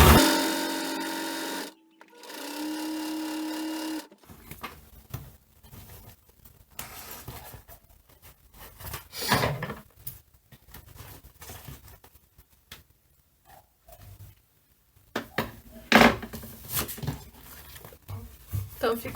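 A sewing machine with a plastic presser foot stitches plastic-coated fabric for an adult bib, whirring in a short steady run at the start, then fainter scattered mechanical clatter follows under a voice talking.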